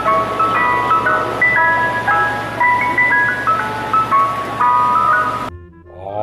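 Ice cream truck jingle plays loud and close, a bright repeating melody of electronic chime notes over a low engine hum for about five seconds before cutting off.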